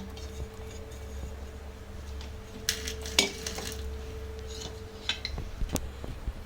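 Metal utensils clink and scrape against a pot as soaked sabudana is added for a sabudana kheer, a few sharp clinks and taps over a low steady background hum, no talking.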